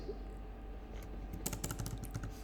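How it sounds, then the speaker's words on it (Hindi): Typing on a computer keyboard during a coding session, a quick burst of light clicking keystrokes close by, faint over a low background hum, without speech. "तो हम गूगल पे लिखेंगे"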